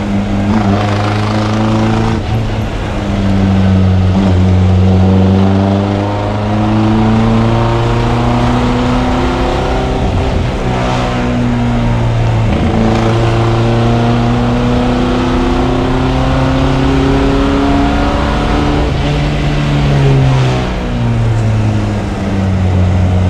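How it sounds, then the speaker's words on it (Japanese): A Fiat 1100B Sport Barchetta's engine accelerates on the road, loud and close, its revs climbing through repeated gear changes with brief dips between pulls, steady road and wind noise underneath. "このフィアット1100スポーツコンリーがどんな走りを見せるのか、ちょっとだんだんとねレースアップしていってみましょ"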